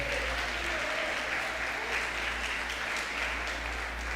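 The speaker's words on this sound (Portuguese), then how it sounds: "Dê uma salva de palmas para Jesus." Sustained applause from a large church congregation, a dense, even wash of clapping that holds steady throughout without pause.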